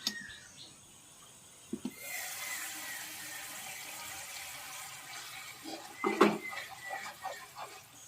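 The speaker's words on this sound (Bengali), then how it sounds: "দেখুন বন্ধুরা, ঝোলটা কিন্তু ফুটে গেছে" Pomfret curry gravy simmers in a pan, giving a soft, continuous bubbling hiss with a few small clinks and pops, faint and close, with no speech over it.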